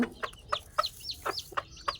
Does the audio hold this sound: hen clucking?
yes